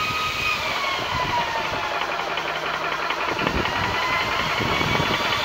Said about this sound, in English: press the power button for the compressor to turn on